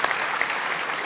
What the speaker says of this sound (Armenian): ծափարեք Նարեն